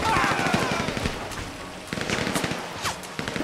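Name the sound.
gunfire from new weapon in GTA Online video game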